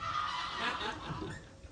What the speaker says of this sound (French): Elles sont avec moi, les oies là-bas.